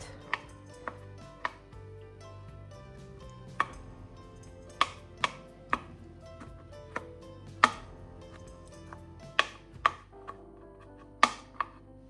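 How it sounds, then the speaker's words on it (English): Broccoli roughly chopped with a knife on a board, a dozen or so sharp separate chops at an uneven, unhurried pace, close and clear with no talking. "I'm just taking it little by little. Roughly chop it."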